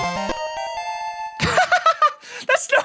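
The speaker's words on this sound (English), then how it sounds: "That was my stream alert." A short chiming stream alert jingle rings out with bright tones at the start, then gives way to lively, exclamatory talking.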